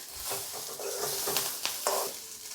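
Two green chillies frying and stirred in a pan for a restaurant-style butter chicken preparation, soft steady sizzle with a few light scraping stirs, close and quiet.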